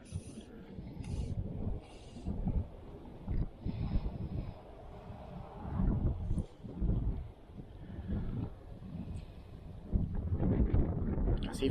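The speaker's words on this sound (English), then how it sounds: "Oh dear me, that is windy." Strong wind blowing down a river valley during trout fishing, gusting and buffeting hard against the microphone in uneven surges with rumbling low roar throughout.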